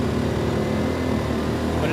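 An Erayak 4500PD tri-fuel inverter generator runs under heavy load and slows, its engine a loud, steady droning hum with a low rumble throughout.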